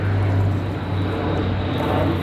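A propeller airplane drones overhead above Oxford University's campus, a loud, steady, continuous engine roar that fills the whole stretch without a break.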